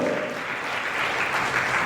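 A church congregation clapping in thanks to God during a Hindi sermon, brisk continuous applause filling the room, with a faint voice briefly audible at the start.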